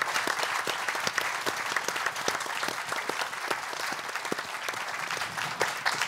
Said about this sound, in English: Please join me in giving a round of applause to our distinguished panel members.